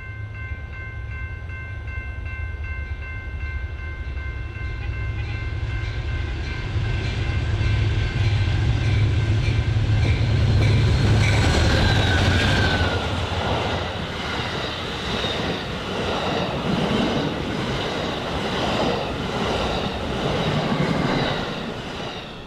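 A westbound Chief passenger train with a spare coach passes out of Union Station, first as a low distant rumble, then a loud close roll of wheels with clicking and a brief squeal before it fades away.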